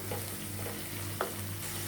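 Ginger-garlic paste frying and being stirred into softened onions for a homemade colocasia-leaf (alu) curry, giving a steady low sizzle with a brief scrape of the spoon, close and fairly quiet, no voices.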